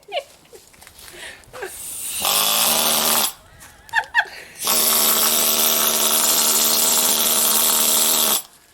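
Loud, sustained mechanical pounding from a pneumatic tool on a rusted VW trailing arm in two long bursts, with a short pause and faint voices in between.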